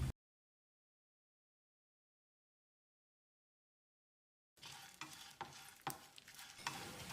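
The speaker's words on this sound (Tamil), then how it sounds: "1 டீஸ்பூன் சோம்பு, 1 டீஸ்பூன் கசகசாவையும் சேர்த்து 1 நிமிஷம் வறுத்துக்கலாம்." Fennel and poppy seeds are dry-roasted in a pan. After a long stretch of silence, scraping, stirring and a soft crackle start abruptly and continue close by to the end.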